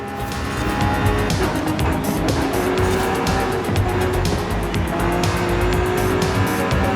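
A race car in Forza Horizon 5 roars continuously at high revs while its tires squeal and skid through corners, loud and unbroken with no talking.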